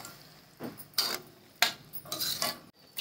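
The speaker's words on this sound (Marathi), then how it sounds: "झाकण ठेवते।" A metal lid set onto a pot of simmering cowpea pod vegetable, giving several sharp clinks and scrapes in a quiet kitchen with no talk.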